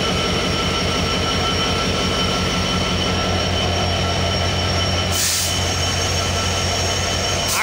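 A train pulls away, its steady rumbling roll on the rails close and loud throughout, with a brief wheel squeal or hiss burst near the end.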